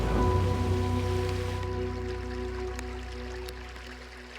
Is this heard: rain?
yes